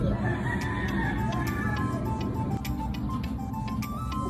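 Birds call outdoors, with short, bright chirps scattered over a steady, loud background hum.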